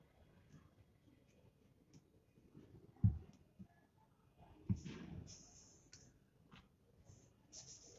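Pen or pencil strokes drawing a perpendicular line in a geometry lesson, with quiet scratching and a couple of sharper taps as the ruler or pencil is set down, faint and close.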